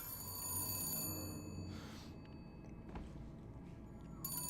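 A telephone bell rings in the video game BioShock Infinite, a steady, fairly faint ringing over a background hum, with no one talking.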